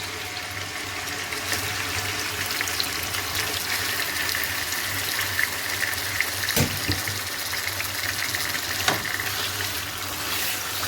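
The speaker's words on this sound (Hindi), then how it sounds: "यहाँ पे मैं चिकन ऐड करूँगी और चिकन को मैं फ्राई कर लूँगी" Chicken frying in a pan for a quick biryani, a steady close sizzle and hiss running unbroken throughout, with a couple of brief clinks partway through and no talking.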